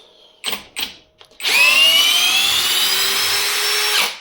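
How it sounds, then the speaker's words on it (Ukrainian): A small LEADER 45 N·m impact drill-driver drives screws. A couple of short close whirring bursts lead into a loud, steady motor whine that holds for about three seconds and then cuts off. "Уявляєте, так крутить, що навіть і не відчуває такі гвинти."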